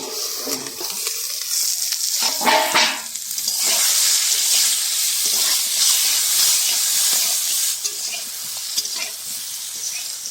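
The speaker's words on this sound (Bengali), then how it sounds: "কচুগুলো আমার ভাজা হয়ে গেছে" Taro pieces fry in a pan in a rural kitchen, giving a loud continuous hissing sizzle with a few stirring clatters early on, steady to the end.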